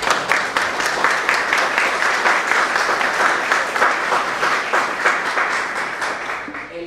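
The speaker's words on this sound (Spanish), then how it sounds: "Y que le demos un aplauso." A seated audience at a book presentation breaks into sustained applause for the illustrator's father, dense clapping that holds steady for several seconds and fades slightly at the end.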